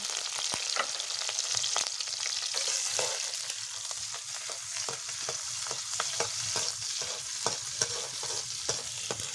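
Onion and green chili frying in mustard oil, a soft steady sizzle with frequent light scraping stirs of a spatula, fairly quiet and close, no one speaking.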